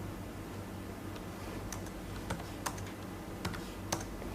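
Computer keyboard keys typed on a desktop, a few sharp scattered clicks over a steady low room hum, with no talking.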